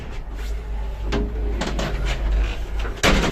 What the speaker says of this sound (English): Right, shut both doors or just one door?